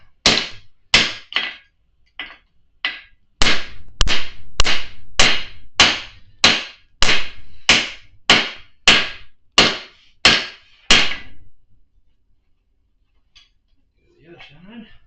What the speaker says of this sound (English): I just hit the anvil.